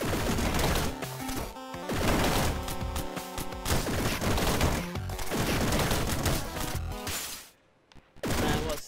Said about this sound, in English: It's like a machine gun. I love machine guns.